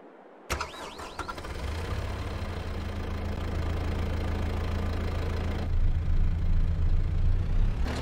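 Kubota M6 141 tractor with an LA2225 front loader in a farming video game cranks briefly, then its diesel engine catches and settles into a steady, loud idle rumble that continues alone, swelling slightly near the end.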